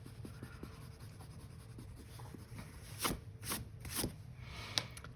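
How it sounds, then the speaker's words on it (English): Eraser rubbing out pencil lines on paper, a few brisk scrubbing strokes and rustles, quiet and close, with louder swipes in the second half. "I'm gonna lighten this pencil up a bit by erasing."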